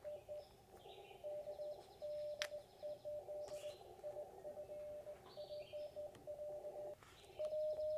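Ham radio Morse code (CW) tones sent on a straight key, a clear steady pitched beep cut into short and long pulses in an irregular rhythm, with faint higher chirpy tones above it.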